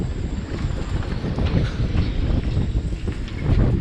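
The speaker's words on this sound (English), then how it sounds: "it's so windy" Strong wind roars and buffets steadily throughout, a dense low rumble with gusts swelling and easing, with no voices, heard aboard a boat.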